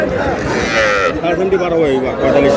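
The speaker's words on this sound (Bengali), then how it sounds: "ষাঁড় বাচ্চা" A young bull calf moos repeatedly at the Aftabganj cattle market, close and fairly loud, with people chattering in the busy crowd around it.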